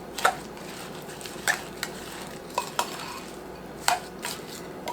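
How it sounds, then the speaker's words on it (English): A knife scrapes and clinks against a bowl while stirring thick oatmeal cake topping, several separate metallic taps at an uneven pace over a quiet kitchen hum, close by. "I don't usually stir with a knife, but this is pretty thick"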